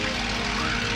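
Spitfire aircraft engine roaring steadily and loudly at close range through an aerobatic roll, a continuous droning rumble with no voices heard over it.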